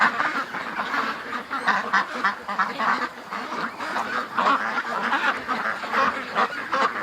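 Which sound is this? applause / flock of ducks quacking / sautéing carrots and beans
flock of ducks quacking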